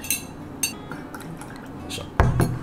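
Glassware clinks a couple of times as hot water is poured into a glass for shochu, ending in a short, close splashing pour.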